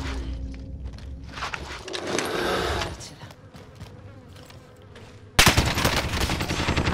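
Video game shootout with continuous rattling automatic gunfire, dense and steady throughout, breaking into a louder, harsher burst of fire near the end, with no talk over it.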